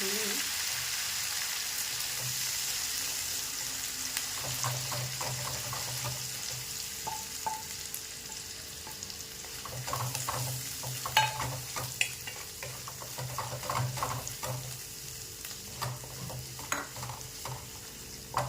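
Ground masala paste for modak amti sautéing in a pan after mustard seeds, a continuous soft sizzle with repeated scraping stirs and light clinks throughout, no voices.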